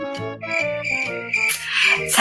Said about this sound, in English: That is the sound of crickets.